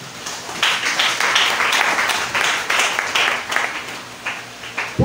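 A church congregation claps during a sermon, loud rhythmic bursts of applause rising and falling in waves, fairly close, with no talking on top.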